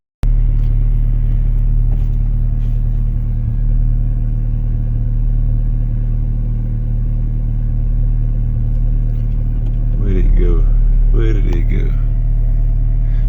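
Idling engine of an all-motor F20B-swapped Honda, cold just after startup: a steady, loud low rumble with a couple of short rev blips near the end.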